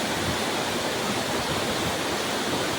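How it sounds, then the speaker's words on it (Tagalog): Daranak Falls waterfall in Tanay, Rizal, roaring as a steady, dense broadband rush of falling water, loud and continuous with no voices. "nandito tayo sa Daranac Falls"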